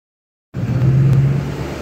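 Duramax diesel pickup engine, deleted, stacked and custom tuned, starting up suddenly from silence. It settles into a loud, deep, steady idle rumble close by, heard alone with no talk.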